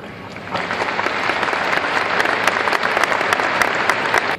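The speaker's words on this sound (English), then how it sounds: "hold your applause until all have been introduced" An audience at a school board meeting gives sustained applause during the introductions of board members and district officials, a thick, even roar of many hands that starts quickly and holds steady.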